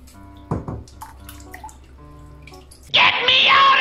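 Water pours into a bathtub, a loud steady rush that starts abruptly near the end after a few drips and quiet voiced sounds.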